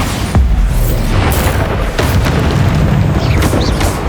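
A Bombarda spell explosion in Hogwarts Legacy, a loud, deep booming blast that fills the whole stretch with rumbling low end and crackling bursts layered over continuous battle noise.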